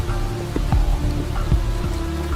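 Heavy rain in the bush: a dense, steady hiss of downpour close by, with a few heavier drops and low thuds in the wash, no voices.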